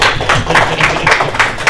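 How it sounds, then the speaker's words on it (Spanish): Applause from an audience at a church teaching session, a close, loud patter of many hands clapping steadily for the whole short stretch. "un aplauso también"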